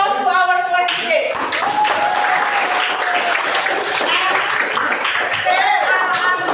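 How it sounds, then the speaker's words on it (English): A classroom of students claps in sustained applause at the end of a lesson, close and dense, with voices and a few cheers mixed in throughout. "Applause to our class today."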